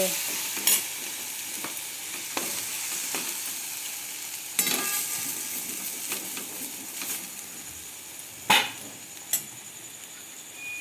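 Onion-tomato masala paste frying for pav bhaji, a steady soft sizzle with a few sharp scrapes and taps of the spoon against the pan, close and alone without talk.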